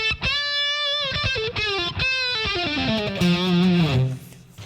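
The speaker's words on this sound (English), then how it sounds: "the Boss DS1 distortion pedal" Electric guitar played through a Boss DS-1 distortion pedal, loud and saturated, with sustained notes and a descending run of bending, gliding tones, alone with no talk.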